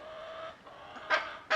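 Chickens on a farm give a couple of short, sharp clucks close by over a steady outdoor background, with no talking.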